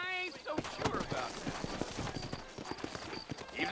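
Horse hooves clip-clop in a steady rhythm on a Western trail in the video game Red Dead Redemption, with a voice talking over them.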